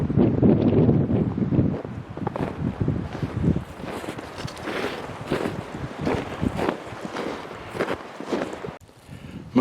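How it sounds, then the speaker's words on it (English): Strong gusting wind of around 50 mph buffets the microphone on a mountain top, loud and close in uneven bursts, with faint crunching footsteps in crampons beneath it. "Wind is crazy up here. 50-mile-an-hour wind."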